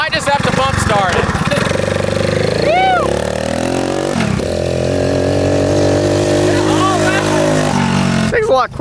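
A three-wheeler ATV engine catches from a bump start and runs loud and close, its revs rising and falling roughly, with voices shouting over it.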